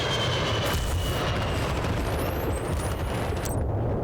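An attack helicopter in the video game Battlefield: Bad Company 2 roars with a loud, steady, broadband rotor and engine wash that fills the whole stretch, with a few thin whistling tones passing overhead.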